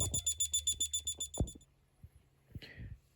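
A shrill electronic beep from a Snap Circuits Extreme SC-750 oscillator pulses rapidly about a dozen times, like a smoke alarm, then stops, followed by a few soft clicks and handling noises.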